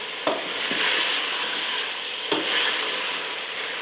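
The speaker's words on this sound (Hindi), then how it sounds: "और तकरीबन पंजों को मैं अभी मसाले में तकरीबन 5 से 6 मिनट भून लूँगी।" Loud, steady sizzling of chicken feet frying in spices in a pan, with a few scraping stir strokes, close up and no voices.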